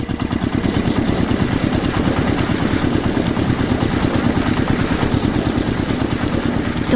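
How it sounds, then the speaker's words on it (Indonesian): Large machines run together with a steady, throbbing engine-like rumble that stays loud and continuous throughout, with no voices over it. "Suara mesin pun mengisi udara, membuat suasana semakin menarik."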